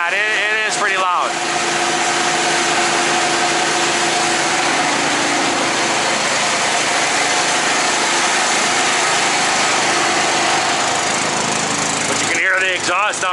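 A loud engine on a service truck runs in a steady, rough, high drone that fills nearly the whole stretch, with brief voices at the very start and end.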